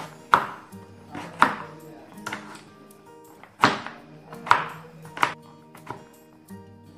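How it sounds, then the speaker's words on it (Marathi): Dried coconut is chopped into small pieces on a cutter, with sharp, irregular knocks and thunks spaced about a second apart, close and clear with no talking. "आता याचेही आपल्याला या कटरवर छोटे छोटे तुकडे करायचे आहेत."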